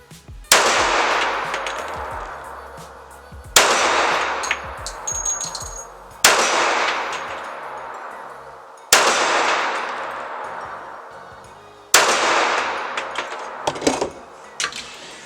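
Five loud, sharp gunshots from a Kimber Custom TLE II D-Day pistol firing Geco .45 ACP full-metal-jacket rounds, spaced about three seconds apart, each with a ringing decay.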